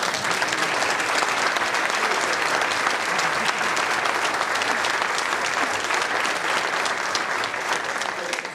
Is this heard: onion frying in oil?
no